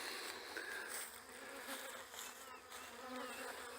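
Honeybees swarm in and out of the front of a hive just after a hive transfer, giving a dense, steady, close buzzing drone that fills the whole stretch without any talk.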